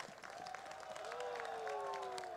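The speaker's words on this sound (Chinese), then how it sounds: "我们要给国昌馆长，也给我们自己一个满满的掌声" Crowd applause and cheering at a large open-air political protest rally on Ketagalan Boulevard in Taipei, a steady dense roar of clapping and shouts with a sustained horn-like tone rising above it.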